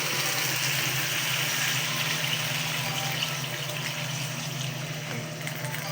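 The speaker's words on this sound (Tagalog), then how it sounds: "Ilagyan natin ng tubig." Water runs steadily into a cooking pan holding mussels, a continuous splashing gush with a faint low hum beneath it.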